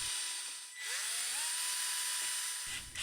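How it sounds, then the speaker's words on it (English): A power drill whirs continuously for a few seconds, its pitch shifting slightly as it bites in, then stops abruptly. "Just drill in a couple holes"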